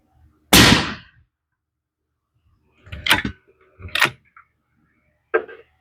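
Tikka T3X Hunter rifle in .243 Winchester firing Hornady Precision Hunter ammunition, a single sharp loud gunshot followed by softer bolt and handling clacks, outdoors with no talking.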